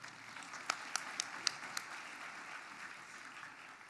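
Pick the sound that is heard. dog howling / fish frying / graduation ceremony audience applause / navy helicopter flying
graduation ceremony audience applause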